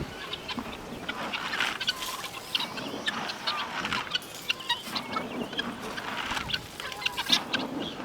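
Ducks being fed outdoors honk and quack repeatedly in an irregular, lively chorus at close to moderate range, with no talk over them.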